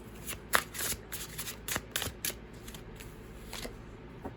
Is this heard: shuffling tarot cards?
yes